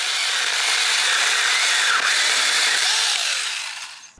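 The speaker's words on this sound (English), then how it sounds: "you can hear that motor struggling a little bit" An Alloyman 6-inch mini chainsaw, a small electric motor strained while cutting through wood, gives a loud, high, continuous buzzing whine that sags slightly under load and fades away at the end.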